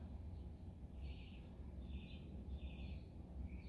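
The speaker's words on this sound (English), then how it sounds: "I really like to hear the birds sing in the morning." Faint, high bird chirps come in a few short bursts over a steady low rumble of outdoor background noise.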